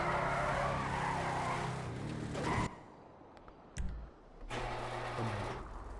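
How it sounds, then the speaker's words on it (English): Muscle car engine in Grand Theft Auto, a loud revving roar with tire skids and squeals that cuts out abruptly, a short thump, then the engine note returns. "I would have an engine that sounds similar to this. Similar to a muscle engine."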